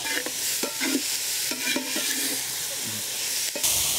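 Onions fry in a pan while being stirred, a steady sizzle broken by repeated scraping and clanking strokes of the utensil against the pan, close and fairly loud.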